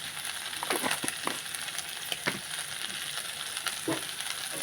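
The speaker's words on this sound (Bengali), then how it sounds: "বন্ধুরা সবজিগুলো আমার ভালো করে ভাজা হয়ে গেছে" Pumpkin stems and other vegetables fry in a pan with a soft, continuous sizzle, punctuated by irregular spatula knocks and scrapes as they are stirred, at moderate volume and without speech.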